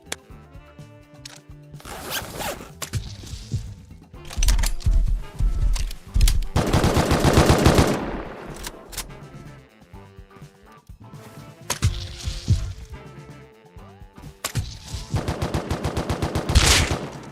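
Automatic AK rifle fire in the survival game Rust, loud sustained bursts of rapid shots repeating through the clip amid other game noise, with several separate volleys and no talking.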